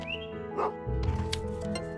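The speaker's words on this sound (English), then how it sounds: "Pet that dog." A puppy in the video game Potion Permit gives a short yip followed by a few quick barks and whimpering sounds, heard clearly and close amid soft game music, with no talking.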